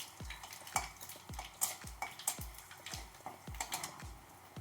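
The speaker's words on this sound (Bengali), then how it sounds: "ফোড়নে দিচ্ছি দুটো তেজপাতা, দুটো শুকনো লঙ্কা, কালো জিরে আর এলাচ। এগুলো দিয়ে একটু ভেজে নিচ্ছি।" Bay leaves, dried red chillies, nigella seeds and cardamom fry in oil with a faint sizzle, and a spoon stirs them in a regular rhythm of soft tapping and scraping strokes, close by and quiet.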